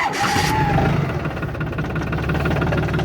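A 2023 Solis 26 Extra tractor's diesel engine cranks briefly after glow-plug preheating in minus-two-degree cold, then catches and settles into a steady, knocking idle close by.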